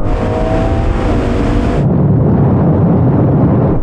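Three cars, a BMW M2, an Audi RS3 and an AMG A45s, accelerating hard in third gear in a rolling half-mile drag race from 50 mph: a loud, continuous engine roar with heavy wind rush, with no talk.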